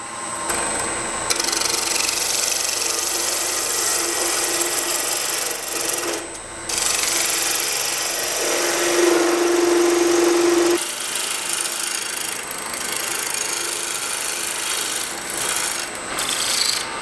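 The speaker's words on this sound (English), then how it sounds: "A little bit more turning, and I am turning at about 1500 RPM." Wood turning on a lathe spinning at about 1500 RPM, a close, loud, steady rasping rub as the tool cuts, broken by short pauses and a brief tonal whine partway through, with no talking.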